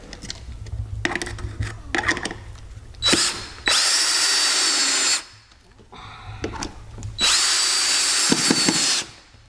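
Power drill driving screws to fasten support wood to a 2x4 behind a sheetrock patch, two long loud whirring runs after shorter bursts and clicks, close up with no talk.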